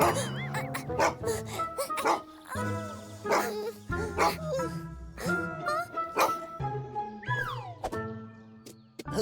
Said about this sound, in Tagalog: Hinabol ng aso ang mga magkaibigan, pero nagawa nilang umakyat sa bakod.